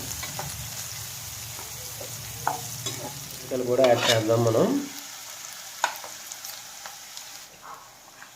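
Tempering spices, including dried red chillies, sizzle in a pan for Andhra-style beans fry while a spatula scrapes and stirs them, with a brief louder burst of frying midway; a voice speaks briefly.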